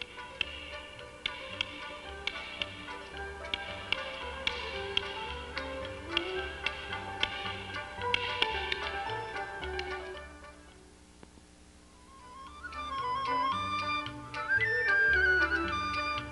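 Baoding balls spun unevenly in the hand, giving a steady run of sharp clacks over a dense tonal background, loud and fairly regular for most of the stretch.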